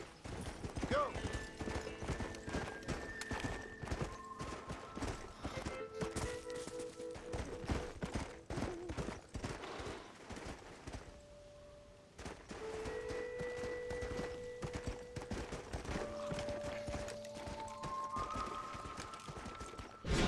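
Horse hooves clip-clop steadily in the Red Dead Redemption video game, a continuous rhythmic trot under game music and occasional voices, moderately quiet with a brief lull midway.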